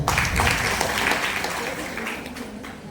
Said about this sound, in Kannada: ಸ್ವಾಗತವನ್ನು ನಾನು ಕೋರ್ತಾ ಇದ್ದೀನಿ ನಿಮ್ಮ ಚಪ್ಪಾಳೆಯ ಮೂಲಕ